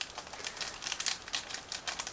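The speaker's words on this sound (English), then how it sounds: "we are going to open this plastic bag and take a look at all parts" A plastic bag holding model kit parts rustles and crinkles in quick, light bursts, close by and fairly quiet, with no one speaking.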